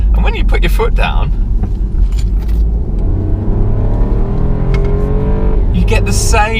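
A 2018 Mini Countryman S E Hybrid's 1.5-litre three-cylinder engine revs and accelerates with a rising, throaty drone, loud and steady from start to finish.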